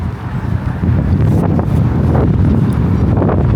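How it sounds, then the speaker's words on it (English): Strong gusts buffet the microphone during an evening walk through a Toronto east-end neighbourhood near a school, a steady loud low rumble with bursts of buffeting throughout, no talking. "And it is super windy right now"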